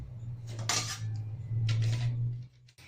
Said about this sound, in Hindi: तो सबसे पहले मैं इन आलूओं को कस के तैयार कर लेती हूँ